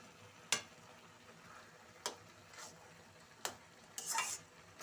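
A spoon stirs carrot halwa in a pan after cardamom and powdered milk go in, giving four sharp scrapes and taps spaced apart over a soft background hiss.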